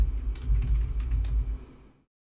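Rapid keystrokes clatter on a computer keyboard while a Linux system is configured at a terminal, a steady burst of close clicks over a low hum that stops abruptly.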